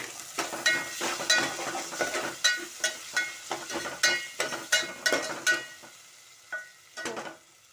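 Vegetables with paste fry in a pan for a beans curry, with repeated scraping stirs and light sizzling in an uneven rhythm that thins out toward the end.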